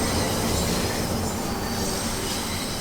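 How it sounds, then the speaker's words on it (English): Wheel flange squeal on a train in Train Sim World while it rounds a series of curves: steady loud rolling rumble with thin, sustained squealing tones running throughout, no voices. "One of the realistic features of Train Sim World is that it very accurately portrays flange noise"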